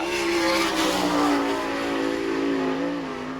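A sprint car at the Bechtelsville dirt oval runs the rim out of turn two onto the back straightaway, its engine screaming loud and steady at high revs, near and sustained without speech.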